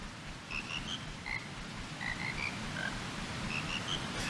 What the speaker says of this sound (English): Ladies and gentlemen, the Frog Choir.